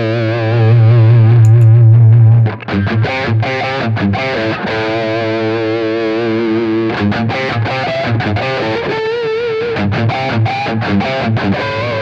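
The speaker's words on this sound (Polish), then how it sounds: "Boost też działa na kanale czystym, dokładnie na tej samej zasadzie, czyli podbija nam troszkę saturację i głośność." Electric guitar played through a Taurus SH8 QUBE amp with its boost engaged, giving saturated, distorted chords and picked notes that ring loud and close, with no voice over the playing.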